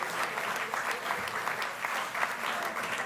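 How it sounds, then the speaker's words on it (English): An audience applauds at a ribbon-cutting event for the 2016 NBA Finals Legacy Project. The clapping is dense and sustained, with a few louder swells, and a faint murmur of voices runs beneath it. "can we have a round of applause for everybody up here"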